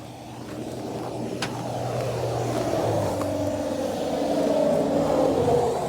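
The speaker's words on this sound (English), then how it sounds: "Yep, another tire blown." Inside a moving RV running on a blown tire on the interstate, a steady droning road and engine rumble builds slightly, with a rhythmic low flapping undertone and a couple of faint knocks.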